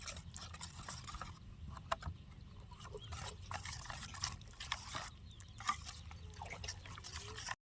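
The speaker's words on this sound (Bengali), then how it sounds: "এবার সব একসঙ্গে আমি মিশিয়ে নেব" Vegetable batter being mixed together in a bowl, giving soft wet squelching and stirring sounds at close range, quiet and continuous with a few small knocks.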